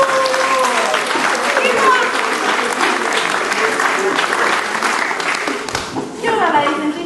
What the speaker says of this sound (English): Could you please give your chief a big round of applause?